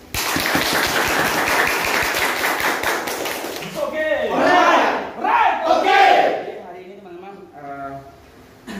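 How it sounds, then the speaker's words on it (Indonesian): An office crowd in Banjarbaru claps and cheers loudly for about four seconds at a promotion celebration, then the noise drops away as voices take over and talk continues. "Kasih aplaus."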